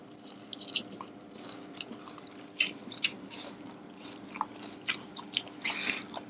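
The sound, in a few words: chewing crunchy fried tempura takeaway food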